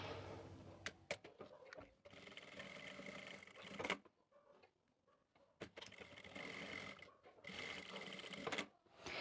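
An electric sewing machine stitches fabric for homemade winter socks, running in close, steady bursts of rapid mechanical whirring with brief stops between seams, no talk.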